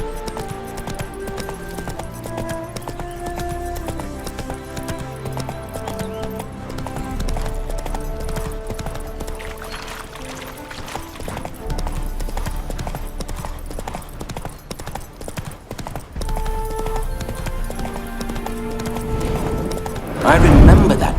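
Rhythmic hoofbeats clip-clop at a steady gallop over game music in The Witcher 3: Hearts of Stone, with a horse whinny near the end.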